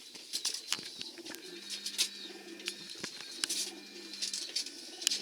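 Soft cooing of blue racing pigeons in low repeated hums, with sharp chirps and rustling around it, fairly close and steady.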